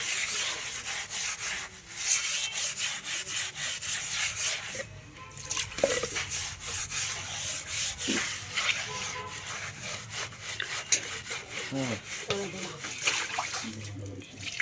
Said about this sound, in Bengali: আজকে যেহেতু ব্রাশ নেই তো আমার এটা দিয়ে আর কি ঘষতে হচ্ছে বাথরুমটা